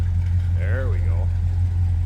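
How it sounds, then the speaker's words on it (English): A 1984 Chevrolet C10 Scottsdale V8 idles with a low, steady rumble close by, while a person speaks briefly over it. "A little rumble coming out of that V8."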